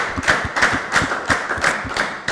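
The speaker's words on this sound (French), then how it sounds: "Très bien dit, on l'acclame quand même, non?" An audience claps for a speaker at a Christian talk show, a short run of rhythmic, fairly close claps in steady pulses, with no voices over it.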